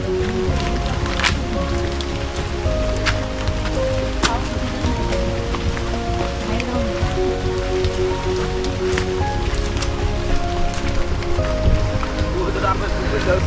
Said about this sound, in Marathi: हे बघा पाऊस बघा